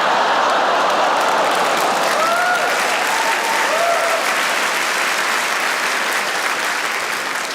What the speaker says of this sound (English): you laughed and you clapped and you oohed all at the same time